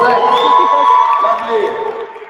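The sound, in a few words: audience applauding and cheering at a workshop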